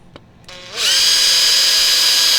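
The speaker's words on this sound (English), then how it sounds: "The nice thing about this type of leather is that you can really just drill right through it." A power drill spins up and bores through leather, a whine that ramps up quickly into a loud, steady high-pitched buzz, close and alone with no talk.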